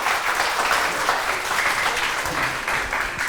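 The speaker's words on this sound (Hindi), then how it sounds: "तो जोर से तालियां बजाना" Steady studio audience applause rings out through a morning television show in Hindi, dense and sustained clapping from a crowd throughout with a faint voice underneath.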